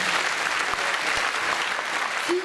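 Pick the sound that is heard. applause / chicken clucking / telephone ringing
applause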